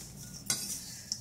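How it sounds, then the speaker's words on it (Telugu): Ingredients, including dates, frying together in a pan, a soft sizzle under a sharp spatula scrape and a lighter clink shortly after, close and fairly quiet. "అందుకు అన్నీ ఒకేసారి వేయిస్తున్నాను."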